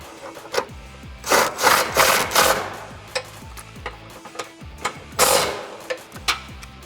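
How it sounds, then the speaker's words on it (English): An impact gun with a 15 millimeter socket snugs the nerf side step bar bolts on a 2021-2022 Bronco 4-door, heard as several short, loud buzzing mechanical bursts separated by pauses. "I'm gonna take my 15 millimeter on my impact gun."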